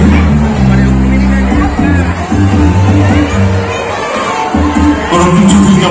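Children in an audience shout and cheer loudly and continuously at a stage show in Nabadwip, a dense crowd hubbub with whoops, under a steady low musical drone.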